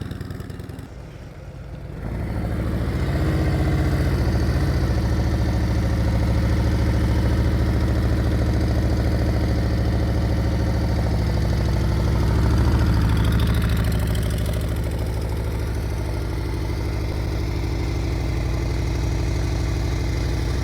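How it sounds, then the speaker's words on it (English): A motorcycle engine runs steadily during slow-speed riding practice, a smooth low hum with gentle throttle swells, close and continuous after a brief quieter start. "Hear her throttle, guys?"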